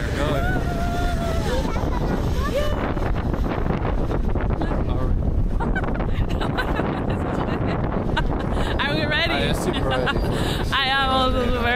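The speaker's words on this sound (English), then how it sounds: "Maybe you cannot hear us really well because the wind is really strong." Strong wind buffets the microphone continuously on the beach at Scheveningen during a New Year's dive, a loud roaring rumble that masks much of the surroundings while people talk through it.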